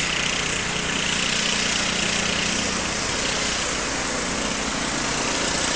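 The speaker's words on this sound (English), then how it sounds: "This person out here blowing snow" A snow blower clears snow in front of a school during a blizzard, its engine droning steadily and continuously at a distance, loud and unbroken with no talk.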